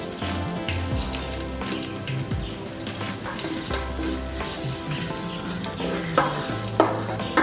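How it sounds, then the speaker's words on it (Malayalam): Dried red chillies, mustard seeds and chopped ginger frying in hot oil for a Kerala-style beef fry, a steady loud sizzle with spitting crackles and a few sharp pops near the end, with no speech. "എണ്ണ നല്ലതുപോലെ ചൂടാകുമ്പോൾ കടുക് ഇട്ട് കൊടുക്കുക."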